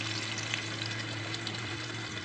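Finely chopped onion sautéing in a pan for street-style vegetable chowmein, a steady, even frying sizzle with faint stirring, heard close and continuous without talk.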